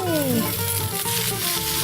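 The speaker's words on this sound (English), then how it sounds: "You want that sizzling noise when you put them down." Red wine marinated chicken skewers sizzle on a hot griddle in a steady, close hiss, with a faint voice and some music-like tones underneath.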